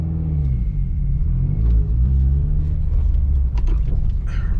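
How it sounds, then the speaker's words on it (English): A Subaru WRX with a new aftermarket exhaust rumbles on a test drive, a loud, close, deep drone that rises and settles with the revs, with small mechanical ticks on top. "we do a test drive so you guys can hear how this new exhaust sounds now that the car is a little bit warmed up."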